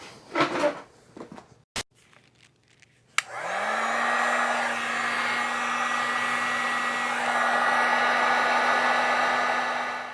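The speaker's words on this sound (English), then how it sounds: "Heat gun time." After a few clicks and handling knocks, a heat gun switches on and runs in a loud, steady whirring blow while softening glue on the screen bezel of an IBM Lenovo T60 or T61 laptop.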